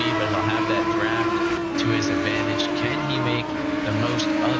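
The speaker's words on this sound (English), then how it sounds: "he hammers down on the throttle" GT3 race car engine at full throttle in a racing video game at Fuji, a steady, droning engine note with shifting pitch beneath continuous commentary.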